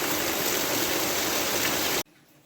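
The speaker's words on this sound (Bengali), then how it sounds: "আর এখনো টিপ টিপ বৃষ্টি হইতেই আছে" Light drizzle falls while rainwater runs along a road after a night of heavy rain, a dense, even hiss of flowing water that cuts off abruptly near the end.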